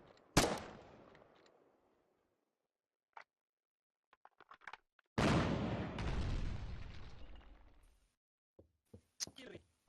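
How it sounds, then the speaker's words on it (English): Artillery shell impacts in a town during a tank battle in a Russian-themed strategy video game: a sharp blast near the start, then a long, loud rumbling explosion with scattered ticks and small bangs between. "I just heard a shell land in the town."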